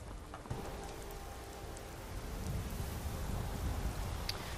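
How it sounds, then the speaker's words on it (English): Soft, continuous rainfall near Whiterun in the video game Skyrim hisses evenly, a gentle wash of drops that grows slightly fuller toward the end. "Oh, it's raining. Of course it's raining."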